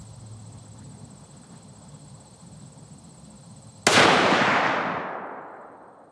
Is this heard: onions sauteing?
no